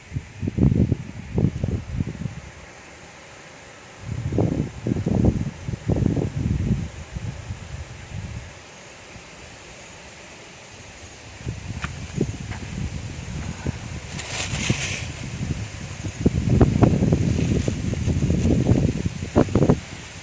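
Strong wind gusts outdoors beside a giant takhian tree in Chumphon Buri district, Thailand, buffeting the microphone in loud low rumbling bursts that come and go several times, with quieter lulls between and no speech.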